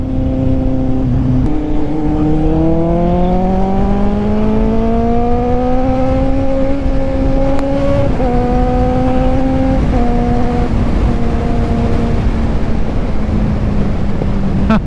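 A car engine revs up loudly and close, its pitch climbing smoothly through the gears, dipping and rising again, steady throughout with no talking.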